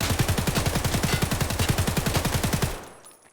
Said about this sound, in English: this is me controlling the recoil with this SA-58 build